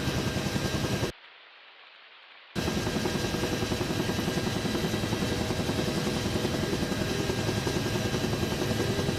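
UH-1 Huey helicopter in a flight simulator game, its steady loud rotor and turbine drone running throughout, cut by a brief gap of near silence early on before resuming unchanged.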